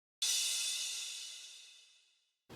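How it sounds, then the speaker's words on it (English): One crash cymbal strike processed with a chorus effect, giving a wide, swirling shimmer, ringing out and fading over two seconds before a brief low thump at the end. "I put a chorus on it."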